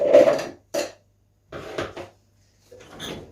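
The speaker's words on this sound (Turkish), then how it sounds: "Patatesleri bunlara aktarıyorum." Potatoes tipped from a container into baking dishes for an oven-baked liver and potato dish, giving several separate clattering scrapes and knocks of food and cookware, close by, with short pauses between bursts.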